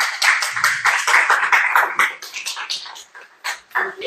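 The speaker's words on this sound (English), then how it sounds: "Keep on clapping for this." An audience claps in loose bursts of scattered, uneven hand claps, loud and close, fading and picking back up toward the end.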